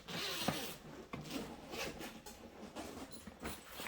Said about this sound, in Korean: 이 케이스는 어, 이렇게 지퍼가 있어요.